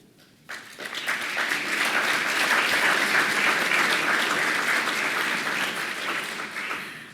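Audience applause for honorees at a college awards dinner, clapping that starts abruptly, builds to a full, even roar of many hands and tapers slightly toward the close, with no talking over it.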